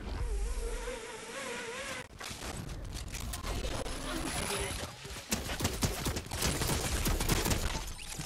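Fortnite turret gunfire rattles in dense, rapid bursts amid game noise, with players talking over it throughout.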